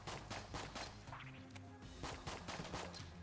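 Rapid bursts of gunfire from the video game Enter the Gungeon, quick repeated shots with crashing impacts, fairly faint amid game music.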